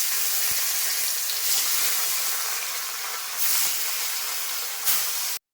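Fish fries in hot oil in a kadai, giving a loud, steady crackling sizzle close by that swells in a couple of bursts before cutting off abruptly.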